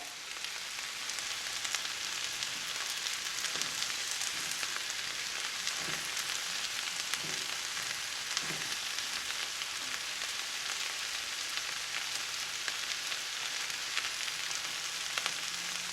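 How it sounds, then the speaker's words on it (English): Eggs scrambling in a hot pan for a chicken and veggie Asian-style rice bowl, a steady close sizzle and frying hiss throughout with faint scrapes of stirring, no voices. "We're going to let those eggs set in there for a minute, and I'm going to start scrambling them right there."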